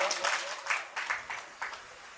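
Applause for a guru at an event, a brief burst of clapping that starts strong and gradually thins, with several distinct louder claps standing out as it fades.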